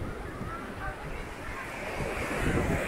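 Ocean waves at Macao beach in Punta Cana, Dominican Republic, a continuous broad wash of surf mixed with wind rushing across the microphone, steady and building slightly toward the end.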